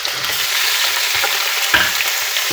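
Chicken pieces fry in a pot with golden-brown onions for an achari handi curry, giving a steady, close hiss of sizzling oil broken by a few soft stirring scrapes, with no one talking.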